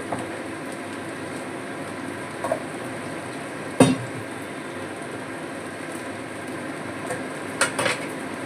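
Spices being stirred into shukto, a Bengali mixed-vegetable dish, in a cooking pot: soft scraping and a few sharp clinks of a utensil against the pot, with one louder knock midway and a couple more near the end, over a quiet steady background.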